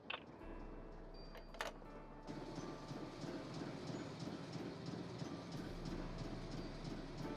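Steady rumbling clatter of a moving train in a Nancy Drew mystery game, loud and continuous throughout, with a brief sharp clank near the start before the rolling rail noise settles into an even drone.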